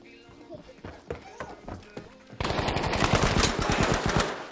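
Battlefield V gunfire: scattered single shots under excited voices, then a loud, sustained rapid machine-gun burst that dominates the final seconds.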